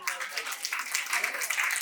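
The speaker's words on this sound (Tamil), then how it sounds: "ஒரு பெரிய கைத்தட்டலோட ஸ்டார்ட் பண்ணிடலாமா?" Guests at a child's first birthday celebration in Chennai clap together, a brisk, continuous patter of many hands held at a steady level for the whole moment.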